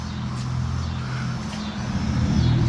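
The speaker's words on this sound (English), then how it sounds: "don't mind that loud truck that just went by" A loud truck rumbles past close by at night with heavy low engine drone that swells slightly toward the end, no talking over it.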